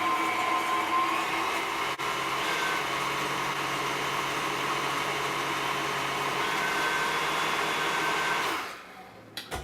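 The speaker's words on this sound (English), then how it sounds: "we've got the sugar and the egg yolks in the KitchenAid. Gonna turn that on for a minute." KitchenAid stand mixer whisking sugar and egg yolks for eggnog, a steady loud motor whir with a beating hum that runs without a break for about nine seconds before cutting off, with no talking.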